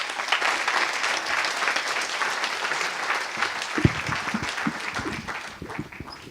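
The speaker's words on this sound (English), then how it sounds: "So we received 2 rounds of applauses, thanks to Marin" Audience applause at the close of a conference talk at FrenchKit 2016, a steady dense wash of clapping from a full room, fairly loud and sustained, with a few sharper individual claps standing out toward the end.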